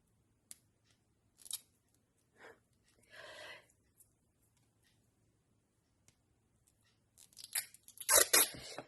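Short strips of adhesive tape are pulled and torn in brief bursts separated by quiet pauses, ending in a longer, louder rip.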